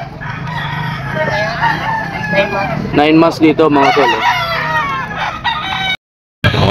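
Chickens and roosters at the Grotto pet market tiangge crow and cluck loudly and close by, overlapping calls in a busy stretch while someone talks over them, before a brief dropout near the end.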